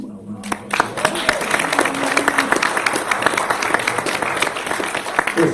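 A congregation gives a round of applause for donors who funded a new soundboard, brisk, fairly close clapping that starts after a brief moment of voice and continues steadily with individual claps audible.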